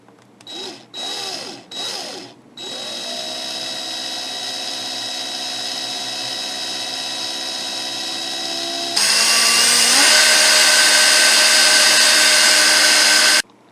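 A power drill winding a wire coil whirs steadily at close range after a few short starting bursts, then jumps to a louder, higher-pitched spin for the final stretch.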